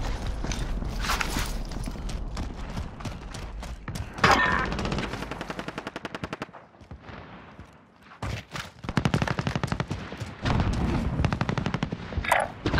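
Rapid automatic gunfire in the Call of Duty Modern Warfare video game, long sustained bursts of rattling shots with brief pauses, loud and close, one heavier shot standing out midway.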